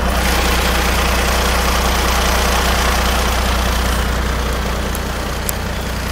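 A Kenworth T800 truck's Cummins diesel engine idles close by, a loud steady low rumble with a rapid knocking pulse, unbroken throughout.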